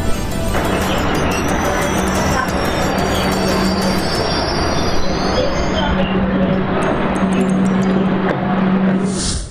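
A passenger train pulling into New Cooch Behar station, with loud, sustained wheel squeal and rumbling carriages close by, high screeching tones riding over a dense rolling roar.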